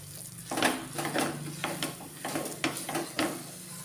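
A spoon works cardamom powder into a coconut laddu mixture in a pan, making repeated scraping and stirring strokes in an uneven rhythm. The sound is close and fairly quiet, with light clinks against the pan and no voices.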